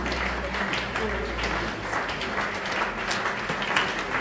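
A standing church congregation at a morning prayer service claps and cheers loudly for the Lord, making a steady, crowded roar of applause and shouting under continuous voices.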